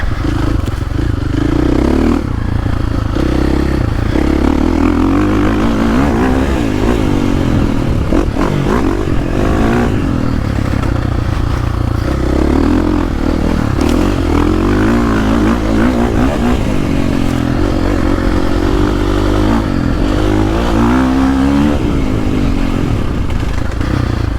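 A 2022 KTM 450 Factory Edition dirt bike revving hard while riding, its loud raspy engine note rising and falling continuously with clatter and scraping mixed in, close to the microphone.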